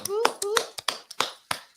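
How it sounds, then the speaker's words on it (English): Several sharp hand claps sound for a guest business mentor at a community gathering, separated by short gaps. Voices cut in between the first few claps. "Let's give him a round of applause,"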